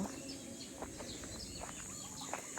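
Faint chirps and scattered calls of chickens and birds on a small farm over a steady hiss of outdoor background noise, distant and intermittent.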